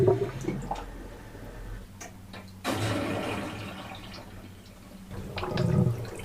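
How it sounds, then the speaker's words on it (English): Water gurgles and drains from a kitchen sink plughole in an Iveco Daily DIY campervan with an underslung grey water tank, a low rushing flow with sloshing surges, close and steady, no talking. "I've just undone the kitchen sink plug."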